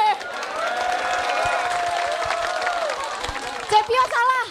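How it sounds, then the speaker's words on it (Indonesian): Audience applause and cheering at a JKT48 theater show, a sustained wash of clapping crowd under a bright, sliding voice, with a few louder bursts near the end. "Tepuk tangan dong buat gue."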